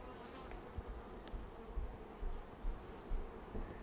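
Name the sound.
honey bees buzzing in hive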